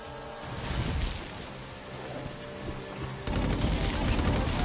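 Auto turrets in inFamous Second Son fire in dense, continuous bursts, close and loud, and grow heavier toward the end under a general din of gunfire.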